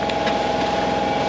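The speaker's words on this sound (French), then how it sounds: "Je suis au moteur là comme vous pouvez l'entendre" Steady, even drone of a sailboat's engine running while motoring, a constant close hum with no variation across the short stretch.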